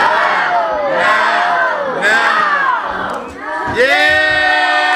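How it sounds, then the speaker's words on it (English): A theatre audience of children yells "no" together in a loud, sustained group shout, swelling in several waves before a final burst of cheering. "Which we can all do now if we can all yell no"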